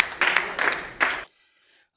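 An audience at a Holi comic poetry gathering claps to welcome a poet onstage, a brief burst of hearty clapping in a few surges that cuts abruptly to near silence.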